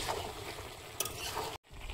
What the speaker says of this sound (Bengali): তরকারিটা আলগা করে নেড়ে দেবো।